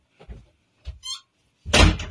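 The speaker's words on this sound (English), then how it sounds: "give me a second, shut the door" A door is shut indoors: a few light handling thumps and a faint squeak, then one loud, close slam to finish.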